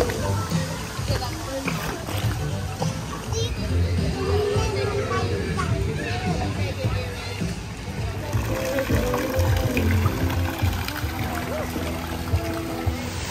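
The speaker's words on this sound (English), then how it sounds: "Lazy River is definitely pretty cool" Water sloshes and splashes continuously around a resort lazy river at Universal's Cabana Bay Beach Resort in Orlando, with children playing amid a crowd hubbub and a nearby voice talking over the watery din.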